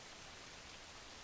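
Steady rain falling at night, a soft, even hiss of drops spread evenly throughout, faint and continuous with no talk over it.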